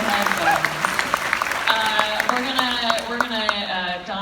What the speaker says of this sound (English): Round of applause for Mike, everyone.